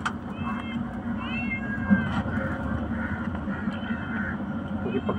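Several cats meow in a high, wavering pattern at mid distance, repeated calls rising and falling over a steady murmur of background chatter and household noise.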